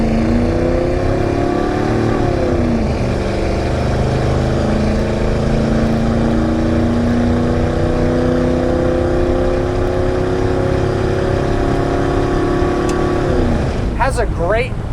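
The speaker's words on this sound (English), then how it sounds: "Has a great motor and exhaust combo sound. Not too terribly loud, but you get a good exhaust note from it." A factory black 1987 GMC C10 pickup with a 350 engine and 700R4 transmission drives along, its steady, moderately loud engine and exhaust drone rising and falling as it accelerates and shifts, with wind and road noise throughout.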